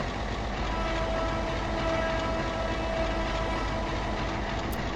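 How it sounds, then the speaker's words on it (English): C430 diesel locomotive in the Trainz 2022 rail simulator on the GILA Railway, a dense steady engine and rolling rumble with a faint, thin horn tone held beneath it, quieter than the surrounding noise. "It sounds like the horn audio is way quieter than everything else."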